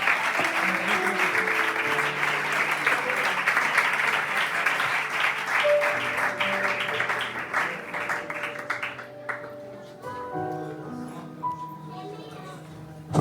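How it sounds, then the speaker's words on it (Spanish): A church congregation claps together in steady, dense applause while organ or keyboard chords sustain underneath, the clapping fading out near the end as the music carries on. "Damos un fuerte aplauso al Señor"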